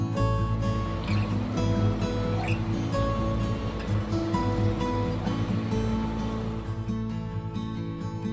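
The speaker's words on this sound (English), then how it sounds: "Montauk is well known for its commercial fishing fleet, and here comes one of the boats now." A commercial fishing boat passing on Lake Montauk, heard as a steady, loud, droning engine rumble mixed with water wash and wind from a nearby boat, continuous throughout.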